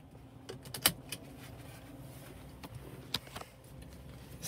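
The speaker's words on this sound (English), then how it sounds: "Just put my seat belts on." Seat belt being fastened by the driver inside a Toyota Camry Atara SX, a few quiet clicks and a sharp metallic latch snap amid soft cabin rustling, no talking.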